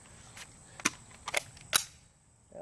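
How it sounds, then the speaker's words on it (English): Several sharp, dry metallic clicks from a pistol dry-firing on an empty magazine, about four spaced snaps over a quiet background with no talking. "Click, no bang, see the slide, drop, and push forward."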